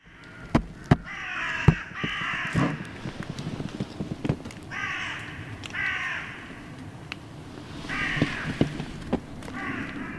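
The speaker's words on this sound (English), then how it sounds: "there was definitely something that woke up the sleeping crows" Crows caw in a forest at dawn, with loud repeated harsh calls arriving in clustered bursts, some near and some farther off, with scattered thumps and rustles in between.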